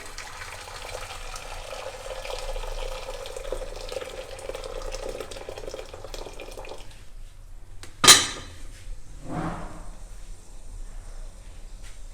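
Hot water running from a kitchen tap while pork is prepared for cooking, a steady pouring rush for several seconds that stops, followed by a sharp clank of a pot or dish and a brief splash.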